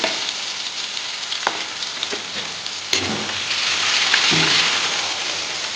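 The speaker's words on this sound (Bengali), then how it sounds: "আলু আর বিনসটা দিয়ে হালকা করে ভেজে" Potatoes and beans being lightly fried in a pan for a paneer dish, a dense continuous sizzle like rain with a few spatula knocks and scrapes.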